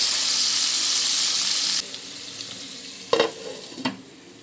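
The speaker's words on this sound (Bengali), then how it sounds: "শিমগুলো আমার ভাজা ভাজা হয়ে এসেছে।" Flat beans frying in a pan with turmeric, a loud steady sizzle that drops off sharply partway through, followed by quieter crackling and two brief clatters of stirring.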